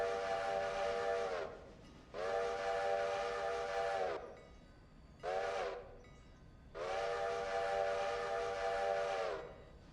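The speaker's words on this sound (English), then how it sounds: "I love the sound of a nice steam train whistle." A steam locomotive whistle in the train game Railroader blows four times, three long blasts and one short, a loud bright chord standing alone with quiet gaps between.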